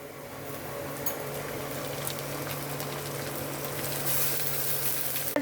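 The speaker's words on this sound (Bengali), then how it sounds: "এবার আমরা মশলাটা ঢেলে দেবো।" Masala paste is poured into browned onions frying in oil in a pan for butter chicken, giving a steady, dense sizzle and crackle that swells slightly toward the end.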